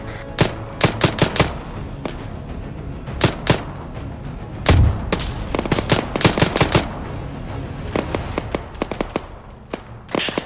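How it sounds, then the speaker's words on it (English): Heavy gunfire rings out in Arma 3 during a firefight, with RPG fire coming in. Sharp bursts and single cracks repeat irregularly throughout, loud and close over a low background rumble, with no talk. "Currently receiving heavy RPG fire."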